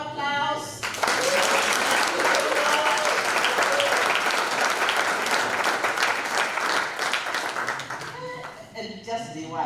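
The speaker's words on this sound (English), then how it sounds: "So give our last round of applause." An audience at a celebration summit gives a full round of applause, dense steady clapping that swells after a brief opening and tapers near the end, with a voice briefly heard at the edges.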